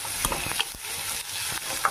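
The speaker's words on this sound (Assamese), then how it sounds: "আৰু এতিয়া আলুখিনি দি দিলোঁ।" Potatoes hit hot oil in a home kitchen pan after eggs were fried, giving a steady close sizzle with a few sharp spits and stirring scrapes across two seconds, no voices.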